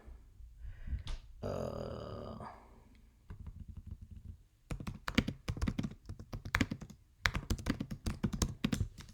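Quick bursts of typing on a computer keyboard, close and clicky, in clustered runs of keystrokes after a brief stretch of muffled speech.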